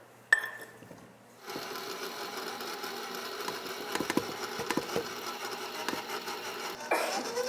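Stand mixer with a paddle attachment mixing bread dough on low speed, a steady close mechanical whir with a faint rhythmic clatter, starting after a brief clunk and running evenly, with no talk.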